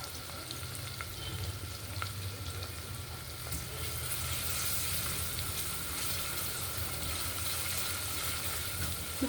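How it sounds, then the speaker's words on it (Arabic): Minced garlic sizzles and fries steadily in a pan, a dense continuous hiss that swells slightly louder partway through, with faint stirring, no talk. "ننزل بالثوم المفروم"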